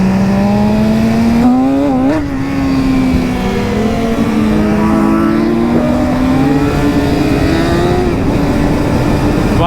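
A BMW S1000RR motorcycle engine drones loudly and steadily while riding, its pitch climbing, with a brief dip near the two-second mark as the gear changes without a quick shifter. No voices.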